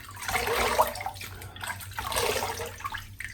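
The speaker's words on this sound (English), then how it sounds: "I'll wet the face." Cold tap water splashing onto a face before a shave, in bursts of wet slapping and running water in a bathroom sink, close up with no talk.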